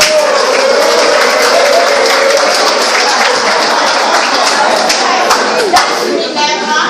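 A group of students in a classroom claps together, a loud dense patter that holds steady for several seconds and then thins toward the end, with voices mixed in.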